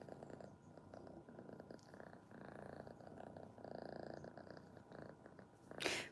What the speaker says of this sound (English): he only communicates by purring and chirping